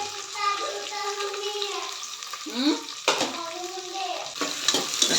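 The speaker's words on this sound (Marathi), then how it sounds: "छान असं हे परतून घेते." Sliced onion and slit green chillies sautéing in a pan, a continuous sizzle with stirring scrapes, while someone talks over it for much of the time.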